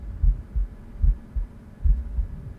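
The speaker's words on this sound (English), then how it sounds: "Heartbeat. We hear more of that swelling, weird audio distortion we've heard." A low, muffled heartbeat thumps steadily in paired beats, roughly five pulses over a droning hum, from the video game Venetica.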